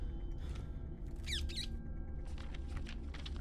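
A bird squawks in the indie horror video game MADiSON, giving a few short, scratchy, squeaky calls over a low ambient rumble.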